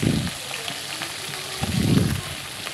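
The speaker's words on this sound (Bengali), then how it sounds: "সামুদ্রিক মাছগুলো আমি বেশ কড়া করে ভেজে নেব" Sea fish frying crisp in a pan give off a steady, moderate sizzle with low rumbling swells at the start and near the end, heard close with no talking.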